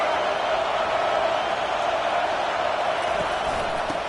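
A football stadium crowd roars in a dense, constant wall of noise while the home defense has the opponent pinned deep on fourth down, and a commentator talks over it.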